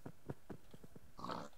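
Pigs in the Minecraft video game oink several times in a quick string of short grunts. A higher, longer squeal closes the sequence, and the sounds are quiet with no talking over them.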